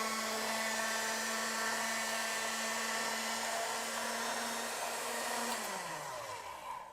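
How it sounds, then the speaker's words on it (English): An electric pasta machine rolling out a sheet of potato ravioli dough: a loud, steady motor whir with a high whine, which drops in pitch and winds down near the end, with no talking. "Every pasta machine is different, so your settings might be different on your pasta machine."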